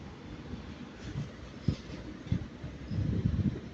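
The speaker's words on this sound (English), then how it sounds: "too much trains are coming at the same time now" Trains moving through Manchester Piccadilly station, low rumbling with rhythmic wheel clunks over rail joints, moderately near, building toward the end.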